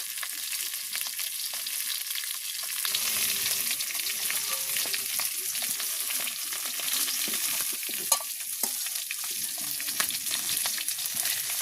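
Fish fries in hot oil in a wok in a village kitchen, giving a steady crackling sizzle throughout with occasional stirring scrapes and small pops.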